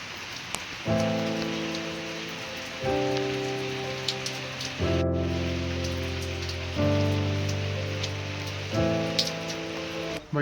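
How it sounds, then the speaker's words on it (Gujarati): Steady rain falling outdoors during a monsoon downpour, a soft continuous patter with occasional drop clicks, heard beneath loud sustained music chords that change every couple of seconds. "જો વરસાદ ચાલુ હોય"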